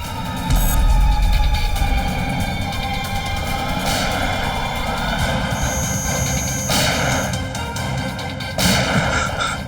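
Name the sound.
gunfire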